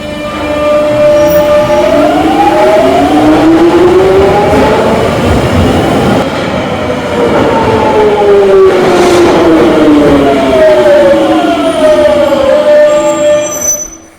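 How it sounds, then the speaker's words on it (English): A London Underground Jubilee Line train's motor whines loudly, its pitch sweeping up and down repeatedly in smooth waves over rumbling wheels for the whole stretch. "why does the Jubilee Line train make that sound?"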